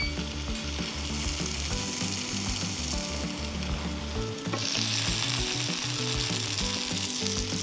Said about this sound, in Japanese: はぜる音に変わってきました。 パチパチいってきました。